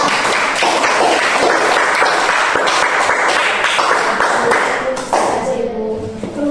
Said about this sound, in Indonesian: kalau tidak ada kita berikan tepuk tangan dulu untuk kelompok